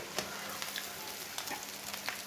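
Egg frying in a pan with dried chillies, a steady close sizzle and crackle running throughout with a few sharper pops.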